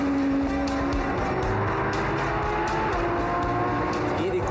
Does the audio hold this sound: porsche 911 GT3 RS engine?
yes